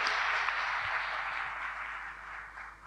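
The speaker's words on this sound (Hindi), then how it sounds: "भाई और ताली सब- बजाओ इनके लिए सभी लोग।" A crowd at a gathering of cooperative sector workers claps for a guest, steady dense applause that slowly thins toward the end, with no talk over it.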